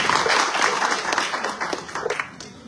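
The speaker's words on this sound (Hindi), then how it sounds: "इनके लिए जोरदार तालियां हो जाए" An audience at a Christmas service claps loudly for a children's dance, a dense, steady wash of applause with scattered sharper claps standing out, slowly easing in intensity over a few seconds.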